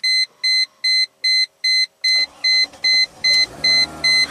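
A Chrysler Crossfire gives a regular series of about ten sharp electronic beeps at an even rhythm as the key is turned on, with faint mechanical noise joining partway through.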